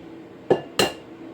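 Two sharp eggshell cracks against the rim of a bowl, close and distinct about a third of a second apart, with no talk.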